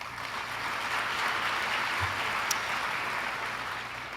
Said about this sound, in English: So, please, join me in applauding Mayor Taylor.